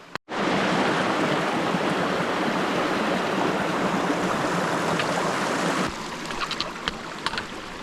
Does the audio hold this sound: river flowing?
yes